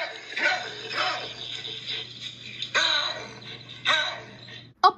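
A baboon calling: a series of harsh, barking vocal bursts of varying length, close and fairly loud, with a faint steady hum underneath and a sharp final bark.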